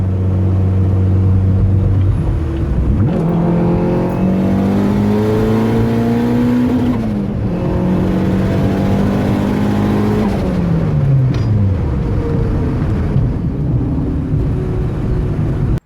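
A turbocharged Honda D16 engine in an EJ8 Civic revs hard through the gears toward the rev limiter. A loud, close engine note climbs in pitch, drops briefly at a shift, climbs again, then winds down, with no talking.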